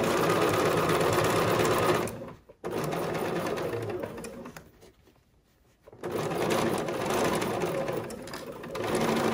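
A sewing machine stitches a seam on an embroidered face mask, a loud close buzzing run that pauses briefly, slows and stops, then resumes steadily, with a brief word spoken over it.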